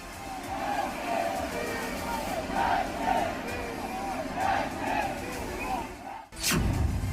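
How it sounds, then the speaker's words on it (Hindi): An angry crowd of protesters clashes with police amid stone-throwing, with loud, continuous shouting and roaring voices throughout. A sharp bang cuts through near the end. "पुलिस और एहतजाजियों के बीच पुरतशद्दुद झड़प हो गई।"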